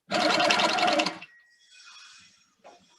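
A Handi Quilter Sweet 16 sewing machine stitches rapidly and loudly for about a second as the fabric moves, then stops, followed by faint quiet handling sounds.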